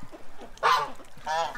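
Female geese give two loud, close honks about half a second apart, with a soft voice and faint background noise in the quiet before them.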